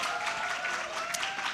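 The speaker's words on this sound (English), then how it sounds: "Big applause for Mr." Applause from a seminar audience welcoming a speaker named Mr. Irfan, steady broadband clapping at moderate level throughout, with a faint tonal hum beneath and no talk.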